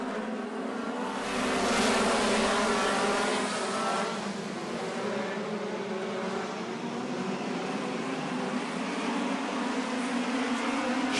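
Speedway race cars roar around a dirt track, a steady loud engine drone from a pack of cars with a slight rise in pitch as they power through, heard from a distance with no talk.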